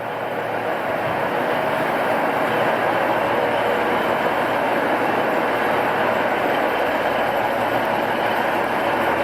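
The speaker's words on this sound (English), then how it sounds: "So yeah, this is the train back home." A ScotRail train bound for Dumfries stands at Carlisle station, giving off a loud, continuous rumble and hum of rail noise that stays steady throughout with no talking.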